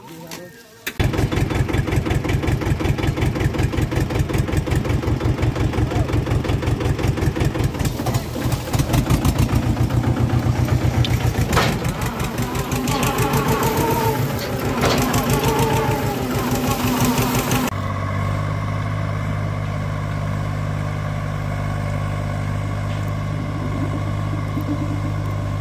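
A tractor engine starts with a quick burst and then runs loudly and steadily with a rapid, throbbing diesel knock during trolley loading, rising briefly before settling into a lower, smoother idle near the end.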